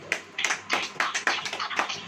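A church congregation claps hands together in a steady, rhythmic beat, a short run of loud, even claps, close and without talk.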